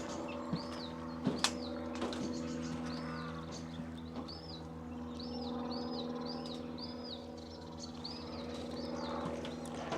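A sedge warbler sings from reeds at RSPB Fowlmere in May, repeated short arched chirping phrases in a quick, fairly faint run at a distance, over a low steady background hum with a few knocks.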